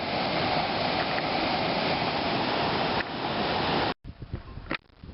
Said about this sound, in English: a lovely waterfall here in the canyon